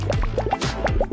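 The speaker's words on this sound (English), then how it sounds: "Just add water." Water is poured over water beads in a container, producing a quick series of bright plinks, bubbly drips and gurgles at close range, with no talking.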